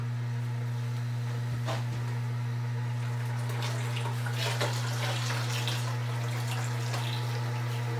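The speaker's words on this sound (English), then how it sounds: "Now we need to strain it." Blended banana and coconut drink being strained, juice pouring and splashing steadily into a container over a strong constant low hum, without speech.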